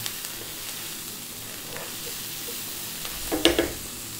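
Turmeric and chili dropped into hot oil for matar paneer give a sharp, loud sizzling burst near the end, rising out of a quiet, steady background hiss.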